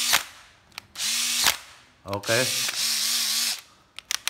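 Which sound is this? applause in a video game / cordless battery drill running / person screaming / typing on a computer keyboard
cordless battery drill running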